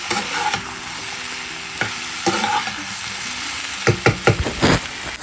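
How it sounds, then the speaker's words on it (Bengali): Potatoes and onions fry in a pan with a steady sizzle, broken by a few scraping stirs that grow busier toward the end. "এদিকে আলু ভাজা বসিয়েছি আলু পেঁয়াজ"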